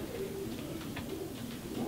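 Racing pigeons coo steadily inside a loft, soft low overlapping calls forming a continuous murmur from several birds close by, with no speech.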